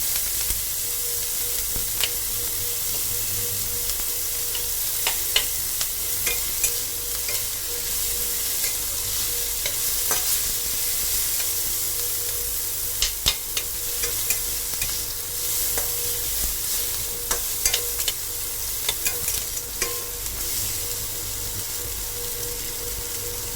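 Eggs frying in oil for an egg curry, with a steady loud sizzle and repeated scraping, clinking strokes of stirring throughout. No voices.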